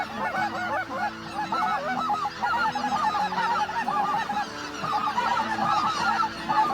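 White-fronted geese, a big flock, honk and yelp continuously in a dense, overlapping chorus that carries loud and steady for the whole stretch, with no voices over it.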